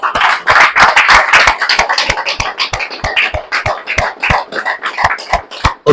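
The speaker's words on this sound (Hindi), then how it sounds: "और जोरदार तालियां हमारे राजेश भाई के लिए।" A room of listeners at an FPRT seminar claps loudly together, a thick burst of hand claps at first that loosens into steady, individually distinct claps until a final sharp one.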